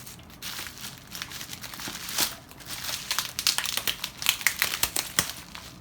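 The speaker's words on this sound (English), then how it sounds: "we'll cut a little bit here in the bubble wrap" Close, crinkly crackling and light tearing as a blade cuts lightly into the surface of bubble wrap packaging, building from a soft rustle to denser, snappier pops.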